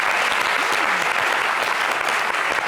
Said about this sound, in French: on va applaudir pour ça